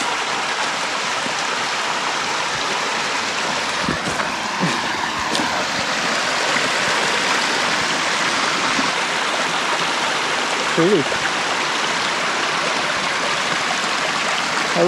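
Spring water in the Santa Catalina wilderness flows with a steady, close rushing wash that fills the whole stretch, with a brief spoken word and faint footsteps heard over it.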